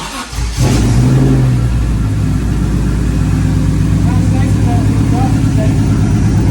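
A BMW E30 M3 with an S54 engine fires up and quickly settles into a loud, steady running drone with a slight rising rev, close by.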